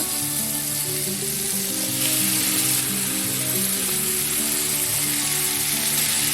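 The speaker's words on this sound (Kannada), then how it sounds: "ಈ ಬದನೆಕಾಯಿನ ನಾನೀಗ ಫ್ರೈ ಮಾಡೋದಕ್ಕೆ ಹಾಕ್ತಾಯಿದ್ದೀನಿ" Brinjal (eggplant) pieces frying in a pan for a North Karnataka-style palya: a steady, dense sizzle and crackle of oil that holds evenly throughout, close and fairly loud, with no voices.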